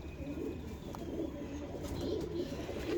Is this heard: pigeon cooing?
yes